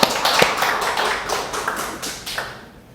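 A Korean church congregation at a Wednesday worship service breaks into a dense burst of applause that carries on steadily for a few seconds before fading out.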